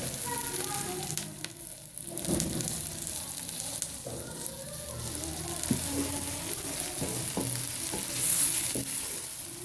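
Minced meat (qeema) fries in a pan with a steady close sizzle, and a spoon stirs and knocks against the pan now and then. There is no speech.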